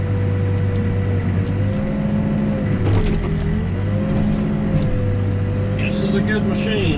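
A B95 backhoe's diesel engine idles steadily and loud up close, with a low constant drone and slight shifts in pitch as it works.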